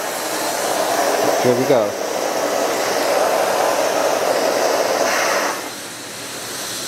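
An Astro Vac central vacuum power head runs with a steady, loud, even whoosh close by, a brief pitch sweep early on and a slight drop near the end, with a short spoken phrase over it.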